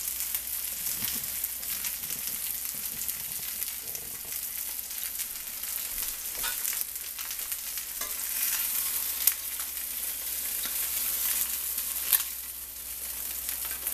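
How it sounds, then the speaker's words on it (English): Stuffed pork chops sear in a hot cast iron pan with a steady, bright sizzle and crackle. Faint stirring and clinks come through near the end, and no one speaks. "Both sides seared, ready for stuffing."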